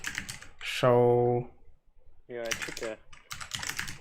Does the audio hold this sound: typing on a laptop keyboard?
yes